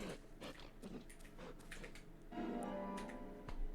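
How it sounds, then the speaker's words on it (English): A dog whimpers in the video game Deadly Premonition. Soft rhythmic ticking comes first, then a thin, high whine rises and lingers through the second half, faint and close. "Don't cry. I didn't hurt the doggy."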